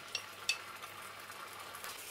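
Quiet, steady sizzling of hot bean sauce gently frying in seasoned oil in a pan, with a couple of light clicks early on and no voices.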